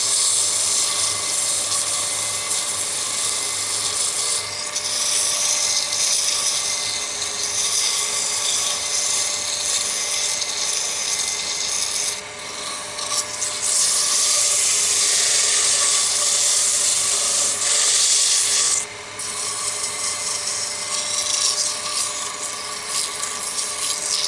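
600-grit sandpaper is pressed against a chess rook spinning on a lathe, giving a loud, continuous hissing rush over the steady drone of the machine. It is close and nearly unbroken, with a couple of brief dips.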